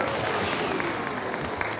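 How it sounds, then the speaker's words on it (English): Sustained audience applause for guests on stage at the Festival of the Force Star Wars fan event, a continuous crowd clapping at moderate volume with faint voices mixed in. "Big round of applause."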